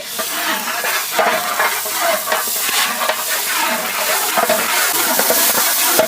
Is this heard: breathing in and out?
no